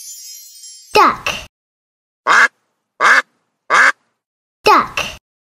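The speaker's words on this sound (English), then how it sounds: "Duck." Loud, nasal duck quacks come one at a time and in pairs, about six in all with gaps of silence between them.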